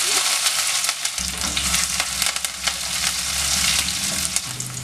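Mustard seeds, shallots, dried red chillies and curry leaves fry in hot oil for a potato egg thoran, a loud continuous sizzle with popping crackles close to the pan, no talking.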